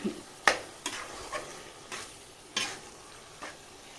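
Chicken kheema sizzling in a pan while a spoon stirs it, with a soft steady frying hiss under periodic scraping strokes, close and clear, about seven strokes over a few seconds.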